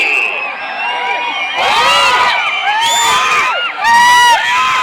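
A large crowd at a race shouts, whoops and cheers loudly and close by, with high excited voices rising in overlapping waves and swelling to peaks of louder yelling.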